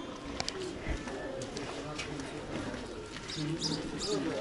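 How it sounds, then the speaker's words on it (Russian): A pigeon or dove coos softly outdoors in a village in McLeod Ganj, India, its low calls faint beneath nearby human voices. "Там птичка."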